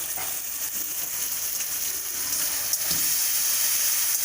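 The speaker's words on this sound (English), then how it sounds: "for dal, I am just cooking the tomato and the green chilies" Tomato and green chilies cooking in a pan for dal, a steady close sizzle with faint stirring, growing slightly louder toward the end.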